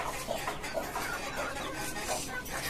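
A broody hen, off her eggs in the heat, wanders a poultry farm with her chicks, giving faint, scattered clucks against a steady background hiss.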